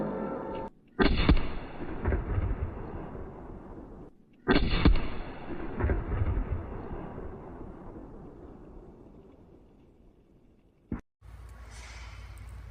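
A Cal-Tech KS7 12 gauge bullpup shotgun fires three times outdoors: two loud, sharp blasts with long echoing tails decaying over several seconds, then a third shot near the end followed by a brief muffled sound.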